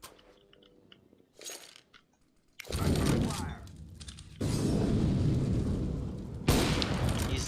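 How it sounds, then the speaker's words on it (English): Flashbang grenade detonating in CS:GO, a sudden loud burst followed by a long, harsh, sustained roar that cuts off and swells again, after quieter clicks and movement sounds. "Throw in a flashbang."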